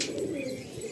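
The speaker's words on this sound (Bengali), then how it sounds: "পুরো সত্যি কিং পায়রা।" A King pigeon gives a brief, soft, throaty coo, close by and alone, lasting under a second against a quiet background.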